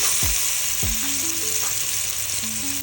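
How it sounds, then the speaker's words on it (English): Lamb seared fat side down in a hot pan, giving a loud, steady, close hiss of sizzling fat throughout, with a few faint tonal blips behind it. "Putting the lamb with the fat side down so that can sear right off."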